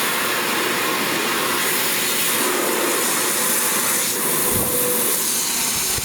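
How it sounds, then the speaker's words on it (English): A wood-bending steamer gives off a steady, loud hiss of escaping steam that runs without a break from start to finish, with no voices. "Already making steam."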